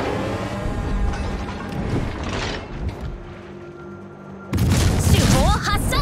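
Warship main guns in World of Warships, heavy booming salvos with rumbling low-end, a big blast near the start and another loud burst later, with a voice speaking over the battle.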